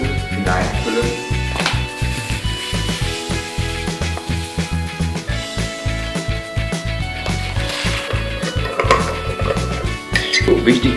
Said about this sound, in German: Wichtig ist, dass es gut durchgerührt wird, damit keine Klumpen entstehen.